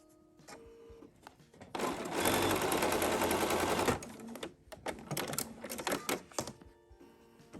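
A domestic sewing machine stitches pieces of a quilt block in one steady two-second run, bracketed by quieter handling clicks and thumps before and after.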